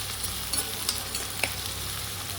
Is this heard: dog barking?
no